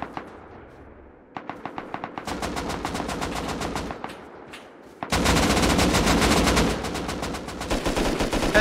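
Rapid automatic gunfire from the survival video game Rust, short bursts early on building into sustained loud volleys with sharp repeated cracks, close and dominant, no talking over it.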